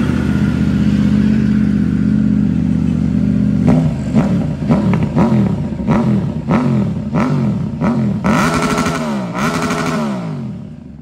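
Motorcycle with a modified stainless steel straight-pipe exhaust, started with the clutch held, idling loudly then revving in a rapid series of sharp, rising bursts close by.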